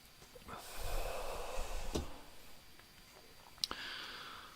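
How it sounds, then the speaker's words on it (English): A long, bubbling inhale from a bong with gurgling noise lasting a couple of seconds, followed by quiet breathing and a sharp click near the end. "For those of you who love the sound of a good bong rip."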